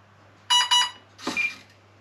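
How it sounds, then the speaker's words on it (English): Two short electronic beeps from an RC scale helicopter's speed controller during throttle calibration sound in quick succession, followed by a brief, softer burst of noise. "2 beeps."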